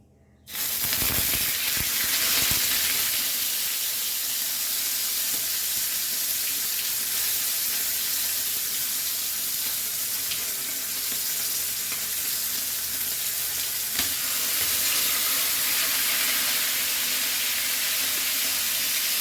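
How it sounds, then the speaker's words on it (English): Mackerel coated in Goan cafreal masala frying in hot oil, a loud continuous sizzle and hiss that holds steady close up for the whole stretch, with no talk. "The oil is hot. So let's fry this."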